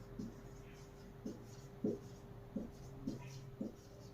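Handwriting strokes on a board or paper during a class, six evenly spaced soft scratches over a steady electrical hum, faint and without talk.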